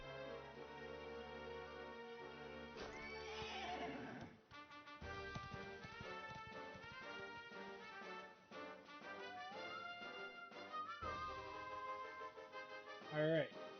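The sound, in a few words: horse neighing and hooves in Dragon Quest XI video game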